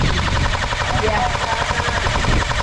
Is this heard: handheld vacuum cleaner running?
no